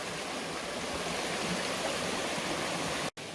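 Steady broadband rush of a stream at a trail water crossing, continuous and fairly loud throughout with a brief dropout near the end.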